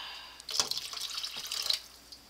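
Bouillon poured from a cup into a pan in a home kitchen, a short quiet splashing stream of liquid lasting about a second and a half, close by with no talk.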